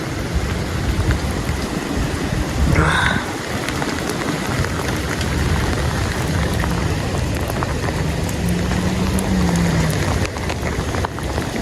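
Heavy rain and wind during a winter storm, a loud continuous wash of falling water and gusts, with no one speaking.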